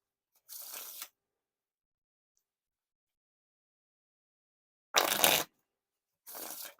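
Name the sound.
riffle shuffling playing cards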